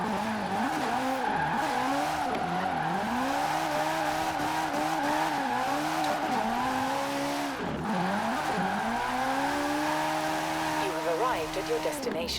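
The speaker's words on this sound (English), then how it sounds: "It's a Ferrari 458 engine." A Ferrari 458 engine fitted to a GT 86 race car in Forza Horizon 4 revs hard and continuously, its pitch climbing through the gears with brief dips at each shift, loud and close throughout.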